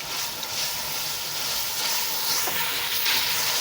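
Garlic and ginger frying in a pan for matar pulao give a steady, close sizzle and hiss that holds even and unbroken throughout, with no talking.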